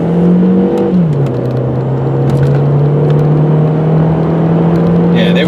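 A 2001 Volkswagen Jetta GLS accelerating toward 60 mph, heard from inside as a steady, loud engine drone that dips briefly after a gear change and then climbs evenly under road noise.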